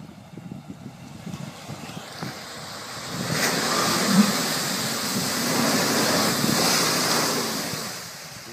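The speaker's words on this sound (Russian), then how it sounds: "Мне тоже, блин, ветер холодный." Cold wind blows outdoors during an off-road test drive of a Nissan Patrol SUV, a steady broadband rush that swells louder midway and stays continuous, with no voices over it.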